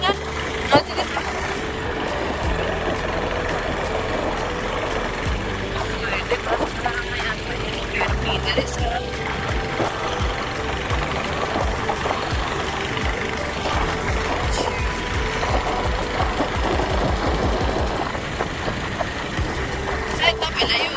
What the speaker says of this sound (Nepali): सायद तपाईँलाई यो बाइकको नोइसले चाहिँ डिस्टर्ब गर्यो होला